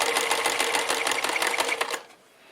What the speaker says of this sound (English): I'm just going to follow the seam along with the side of the presser foot